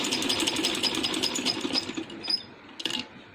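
A sewing machine runs steadily, stitching a double-folded fabric strip for a handmade baby boy's dress, its rapid needle chatter continuous and close before slowing and stopping near the end with a short final burst.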